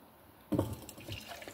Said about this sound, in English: I'm just gonna pour in some hydrochloric acid